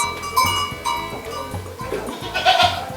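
Goats on a farm in Cabaceiras, Paraíba, bleat repeatedly in overlapping calls with a faint cowbell-like clank, several animals close by against steady background noise.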